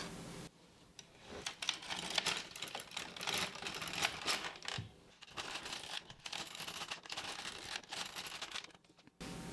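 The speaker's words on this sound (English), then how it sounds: "So let's knit a few more rows." An LK150 knitting machine running rows, its carriage giving repeated clattering, rattling sweeps close by, each pass a few seconds long with brief pauses between passes and no voices.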